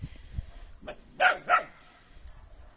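A dog barks twice in quick succession at a rural farm, the two sharp barks fairly close and standing out over quiet background rustle.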